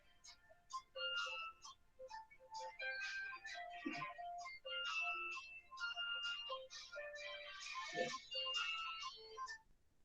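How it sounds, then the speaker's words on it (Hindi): A mobile phone ringtone for an incoming call plays a quick, bouncy electronic tune of short beeping notes, fairly quiet and alone for about ten seconds. "एक सेकंड यार, एक फोन आ रहा है"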